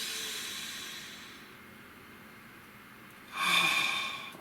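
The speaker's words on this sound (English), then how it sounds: "Nice deep breath." A slow, deep breath drawn in through the nose, soft and airy at first, then a louder hissing exhale close to the mic.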